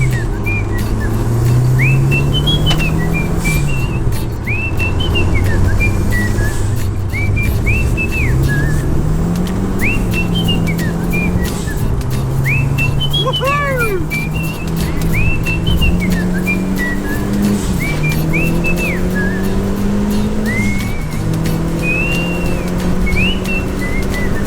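Heater fans in a Renault 5 GT Turbo on a cold day, a loud steady whirring whistle that rises and falls, with a bird-like chirping whistle repeating above it.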